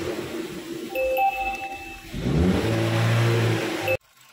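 Chevrolet Spin engine revving after a Blackcore fuel additive was added, rising from a smooth idle into a steady, loud rev held for about two seconds before cutting off abruptly, with a faint ding-like chime early on.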